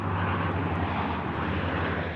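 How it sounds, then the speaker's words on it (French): A red and yellow Canadair firefighting water bomber flies over the lake at Gérardmer, its engines giving a loud, steady, broad roar that holds without a break. "Survol de l'avion rouge et jaune des pompiers au-dessus de Gérardmer."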